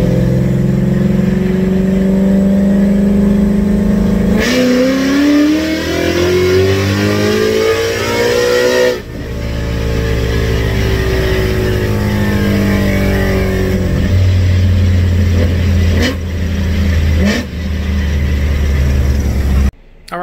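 Coyote V8-swapped Ford Fairmont on a dyno, engine revving loudly and climbing steadily through the gears over a long pull, with brief dips at shifts before cutting off at the end.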